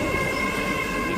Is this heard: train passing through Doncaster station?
yes